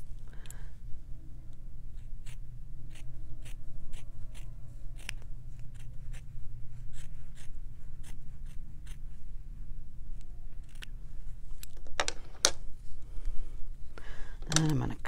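Scissors snip through fabric along a drawn line in a quick series of crisp, regular cuts over a low room hum, close and fairly quiet, with a few louder handling clatters near the end.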